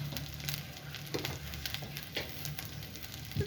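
Spices frying in a pan for a jackfruit curry, a steady soft sizzle and crackle with faint stirring scrapes, quiet and continuous.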